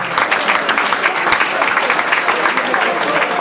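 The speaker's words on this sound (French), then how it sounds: "Je vous demande d'applaudir bien fort l'équipe de Fougères." An audience applauds the Fougères team after a match, a dense, steady wash of clapping that stays loud and close the whole time, with crowd noise mixed in.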